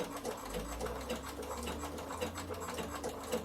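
A Bernina sewing machine stitches down wool applique on a draught stopper, a steady continuous motor whir with rapid needle chatter running throughout, close and moderately loud.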